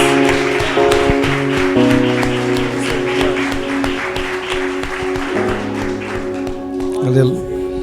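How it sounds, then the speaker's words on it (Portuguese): A church congregation claps in a steady rhythm during a celebration worship service. Bright, regular claps ring out over sustained music and voices for several seconds. "palmas para Jesus."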